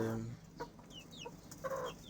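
A rooster and chickens of a new backyard flock, including feather-footed birds, cluck in a short run of calls with a few high squawks, fairly close and with no one talking.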